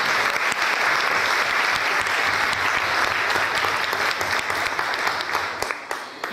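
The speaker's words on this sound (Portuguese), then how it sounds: "Vamos aplaudir a palavra do Senhor?" Sustained applause from a church congregation, loud and steady clapping that fills the space, tapering slightly toward the end.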